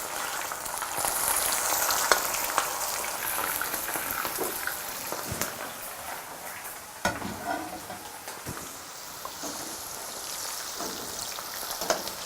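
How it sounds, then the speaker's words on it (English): Okra sizzles and crackles steadily in hot frying oil, a dense, close hiss with occasional sharper pops and spatters throughout, with no talking. "And now the oil is hot enough. Gently lower the okra."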